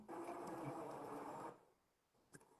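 A blender whirs loudly, mixing boiled peanuts with garlic and two large onions, then cuts off abruptly, leaving a quiet kitchen and a small knock.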